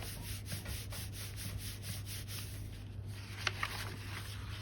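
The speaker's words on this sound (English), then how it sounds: "Close and rub again." Rhythmic rubbing of a hand over folded paper to press wet paint through for a symmetrical butterfly print, soft close scratchy strokes repeating steadily about every quarter second, with no talk.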